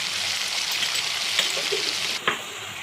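Chilli powder, turmeric and a little salt fry in hot oil in a pan, giving a steady close sizzle with faint scraping stirs, then a brief louder crackle near the end.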